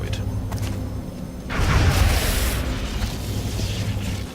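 A grenade thrown by a cyber disc in XCOM Long War explodes: a loud, broad boom that swells suddenly after a quieter stretch and rumbles on for a couple of seconds before settling into a steady low roar.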